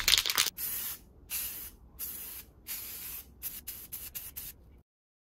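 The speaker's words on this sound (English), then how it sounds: "the one which seemed to appear best was using white spray paint on the acrylic sheet." White spray paint sprayed onto an acrylic sheet, a series of about eight hissing bursts of varying length separated by short pauses, close and clear, then silence.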